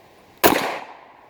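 A single loud pistol shot from a Ruger 57 rings off a steel target plate, a sharp crack followed by a short fading metallic ring.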